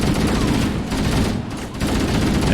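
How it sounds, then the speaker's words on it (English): Gunfire from Halo: Combat Evolved, a loud, dense, continuous barrage of rapid shots with no gaps. "the two open fire at the unsuspecting foes"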